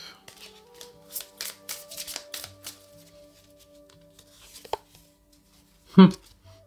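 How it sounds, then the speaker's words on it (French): Tarot cards being shuffled and drawn, giving a series of soft papery riffles and flicks near the mic during the first few seconds, then a louder single card snap near the end; faint talk can be heard. "Je vais retirer une carte pour le nom."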